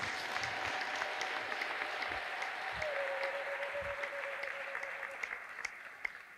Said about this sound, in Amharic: እስኪ ለጌታ አጨብጭቡ